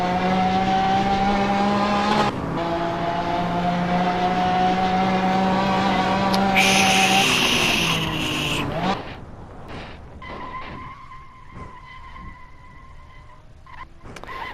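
An off-roading Lamborghini in a Hot Wheels racing video game, its loud, steady engine drone holding high revs for several seconds before dropping to a quieter, thinner whine.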